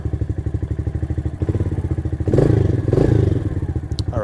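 A Kayo Bull 125 EFI kids' ATV idles and drives around a backyard, its small engine chugging steadily close by, swelling louder as it revs and moves off, with some clattering and a thump near the end.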